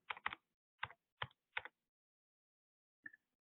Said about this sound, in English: I'm going to type in my zip code.